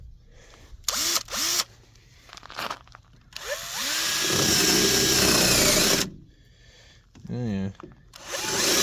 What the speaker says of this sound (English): Set this up for drill.